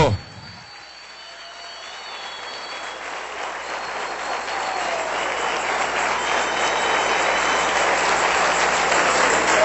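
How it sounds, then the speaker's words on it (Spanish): A church congregation applauds the King during a sermon, clapping swelling gradually from a quiet start into a steady, building roar of many hands that fills the room, with some background murmur underneath. "Dale un aplauso al Rey bendito."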